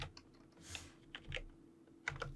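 Soft, irregular clicks of a computer keyboard being typed on, with a few sharper key presses including the tab key, close and fairly quiet with no voices.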